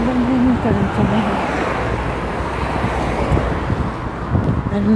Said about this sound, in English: I don't know if you can really hear me because of all the cars.